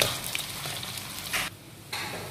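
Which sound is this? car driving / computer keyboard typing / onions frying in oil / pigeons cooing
onions frying in oil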